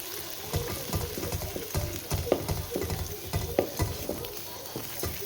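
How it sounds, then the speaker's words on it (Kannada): Masala paste for mutton keema curry being stirred in a frying pan, with repeated scraping strokes of a spoon over a steady low sizzle, close and fairly quiet, no talking. "ಈ ರೀತಿ ಚೆನ್ನಾಗಿ ಇದನ್ನು ಮಿಕ್ಸ್ ಮಾಡ್ಕೊಳ್ಳೋಣ"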